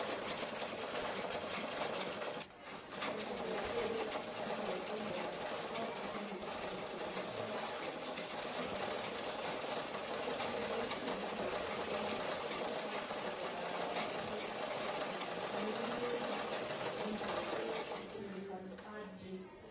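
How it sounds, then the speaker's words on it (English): A treadle sewing machine, worked by a foot pedal that turns the wheel, runs in a steady continuous mechanical whir and clatter at close range for most of the stretch, dropping off near the end. "That move, the pedal is maneuvered by your feet so that it can move in the treadle"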